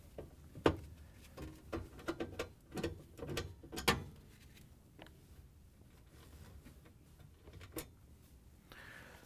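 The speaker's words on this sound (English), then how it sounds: "All you have to do is use your Phillips screwdriver to take out this screw." A Phillips screwdriver backs a screw out of a GE freezer's interior light housing, giving a series of faint clicking, ratcheting turns in irregular bursts, quieter toward the end.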